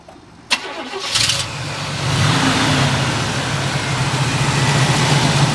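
A 1979 Pontiac Trans Am with an Oldsmobile engine cranks briefly, catches with a sharp start and revs, then settles into a steady, low rumbling idle heard close up.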